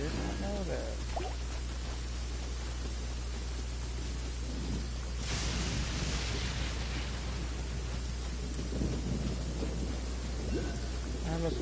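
Rain and thunder in the video game Genshin Impact, a steady loud downpour with a rumbling thunder swell midway, under voices speaking throughout.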